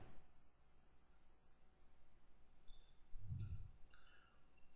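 Faint, close computer mouse clicks from a session in Cubase SX 3 music software, a short cluster of quick clicks near the end over a quiet room hiss.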